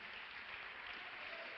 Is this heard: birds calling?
no